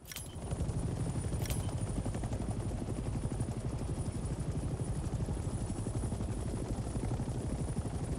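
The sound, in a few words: helicopter flying in video game Hell Let Loose Vietnam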